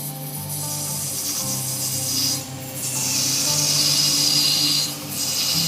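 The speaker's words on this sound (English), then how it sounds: "We'll speed the lathe up a bit, and we'll go in with the skew as we normally do." A skew chisel cuts into wood spinning on a sped-up lathe while turning a shaving brush handle, making a continuous close scraping hiss over a low motor hum, easing off briefly twice.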